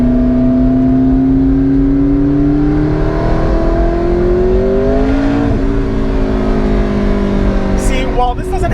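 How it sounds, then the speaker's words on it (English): A turbocharged McLaren 650S supercar engine accelerating heard from inside the cabin, its pitch climbing steadily, then dipping briefly at a gear change and rising again, loud and continuous under a voice. "I still love turbos, the way they sound."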